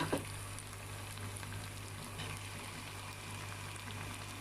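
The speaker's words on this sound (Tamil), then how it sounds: "இப்போ சாப்பாடு போட ஆரம்பிச்சிடலாங்க. போட்டு கிளற ஆரம்பிச்சிடலாம்." Mint rice is stirred in a hot cooking pan, a faint, steady sizzling hiss with a soft scrape of the spoon at the very start.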